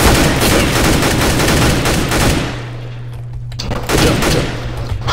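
Rapid automatic gunfire in the shooter game CS:GO, a dense burst of loud repeated shots lasting about two seconds, then a low hum, a brief quieter shot and another short burst near the end.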